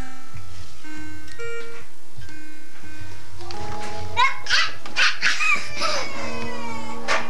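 A puppy yips and barks in short bursts in a family home, clearer toward the end, with a voice and other indoor sounds around it.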